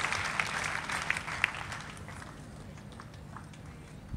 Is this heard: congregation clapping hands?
yes